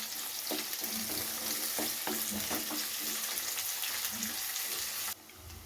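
Chopped onion and four green chillies fry in a pan, giving a constant sizzle with repeated stirring clinks and scrapes close by; the sound drops abruptly near the end, and no one speaks.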